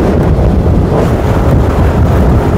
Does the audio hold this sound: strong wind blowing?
yes